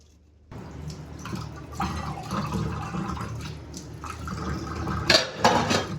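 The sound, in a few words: washing items in water at a kitchen sink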